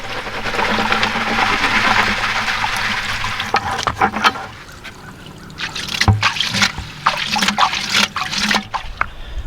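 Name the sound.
water and gold concentrates poured out of a bucket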